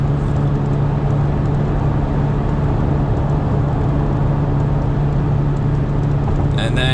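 Inside a 2017 third-generation Toyota Tacoma TRD Off-Road with sound-deadening mats, a steady engine drone and road noise fill the cab while accelerating in third gear, with a strong low hum throughout and no talk.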